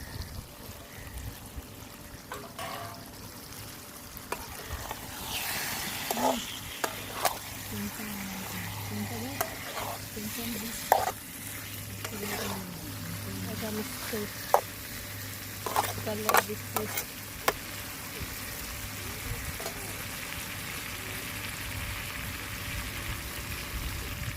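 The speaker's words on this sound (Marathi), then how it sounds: "मासे टाकून घेते आता पहिलं डोकंच टाकलंय त्याच्यानंतर पीस टाकते" A fish head and then fish pieces dropped into hot oil, giving a continuous crackling fry with bursts of sputtering and splatter, and a voice speaking intermittently over it.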